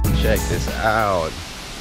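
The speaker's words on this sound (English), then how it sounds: "the big waterfall, dude. That is awesome." Horsetail Falls, a large waterfall near Portland, roars as a steady, broad wash of noise while someone speaks excitedly over it close by.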